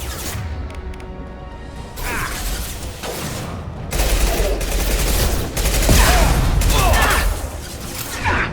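Bursts of gunfire in a Mass Effect 2 battle, with repeated loud volleys and impacts that grow denser and heavier toward the middle, set over a constant low rumble of combat.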